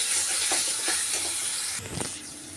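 Masala with turmeric, Kashmiri chilli powder and sugar frying in a pan, a close hissing sizzle that holds steady before dropping off, with a few soft stirring knocks underneath.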